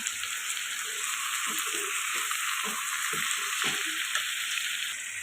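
Chicken pieces fry in a pan for a curry with a dense, continuous sizzle, while a utensil stirs them in soft, regular scrapes underneath.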